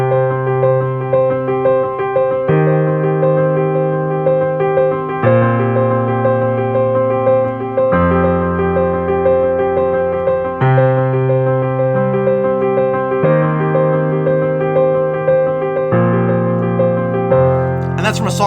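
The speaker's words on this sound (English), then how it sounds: "actually I'll play a bass line to this that sounds really cool" A bass line played over a looping power chord arpeggio progression, with steady repeated notes and chord changes every couple of seconds, loud and close with no voices.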